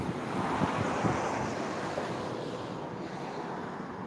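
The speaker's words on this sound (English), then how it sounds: "It's kind of windy out here." Steady wind buffets the microphone outdoors in fog, a continuous broadband roar, with the low rush of surf or water underneath and no talking.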